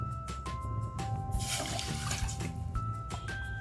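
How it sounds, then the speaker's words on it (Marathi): Water pours and trickles into a pan in a steady splashing stream, two cups for ragi bhakri dough, fairly close and quiet, without talking. "दोन कप पाणी टाकते मी आता"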